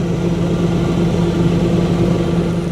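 A tractor engine runs steadily in a horse pasture, a loud, continuous low rumble with an even pulsing throb and no pauses.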